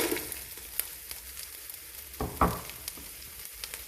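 Frozen chopped onions frying in hot oil with nearly melted garlic and ginger give a steady, fairly quiet sizzle, with a couple of brief louder crackles partway through.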